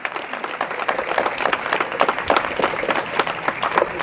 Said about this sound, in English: I want you all to join me in giving a round of applause to the midfield pipe band